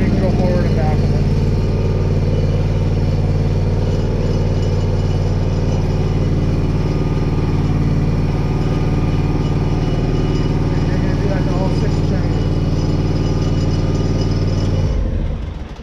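A lawn aerator's small engine runs steadily close by, a constant droning hum throughout, cutting off near the end.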